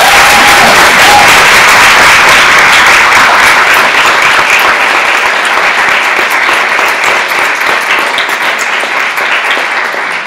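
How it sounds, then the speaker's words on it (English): A breakfast audience gives panelists a full round of applause after a discussion, loud and dense at first, then gradually easing off. "So just join me in giving them a round of applause."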